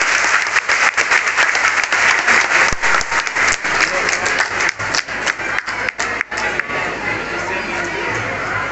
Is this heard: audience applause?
yes